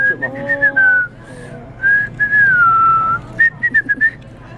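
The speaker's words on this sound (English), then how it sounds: "I whistle louder and better than you." A person whistles a loud, clear melody up close, sliding between notes in sustained phrases and ending with a few short staccato chirps over faint room noise.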